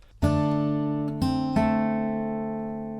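Three fingerpicked acoustic guitar notes from Silent Night ring out one after another, each sustaining and slowly fading, clear and close with no talking.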